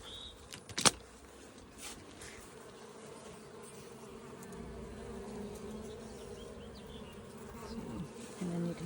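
Honey bees buzzing around an open hive during a hive check, a continuous soft droning hum with individual bees passing near, plus a sharp clack and faint handling noises.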